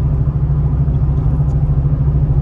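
A 2002 Ford Mustang GT V8 with a misfire rumbles steadily up close from inside the car, a loud, continuous low engine drone with no talk.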